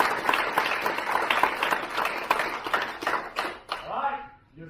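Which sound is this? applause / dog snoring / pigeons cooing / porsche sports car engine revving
applause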